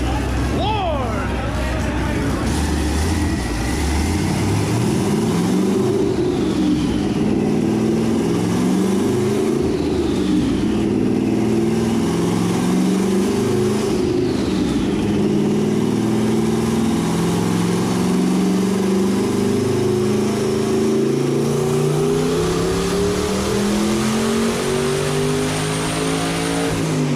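Twin turbo LS1 V8 in a BMW E30 revving hard on a dyno, a loud, sustained roaring engine pull with rising and falling pitch and turbo whine, filling the whole stretch while people talk over it.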